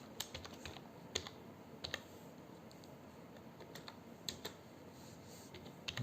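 Code being typed on a computer keyboard, quiet scattered keystrokes in short bursts with pauses, close and faint over a low room hiss, no talk.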